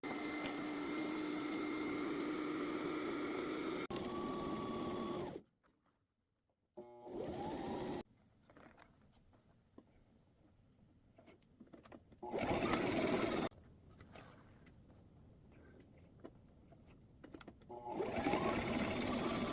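A sewing machine stitches fabric for an Easter basket, running in loud sustained bursts that stop and restart, with quieter handling noises between runs.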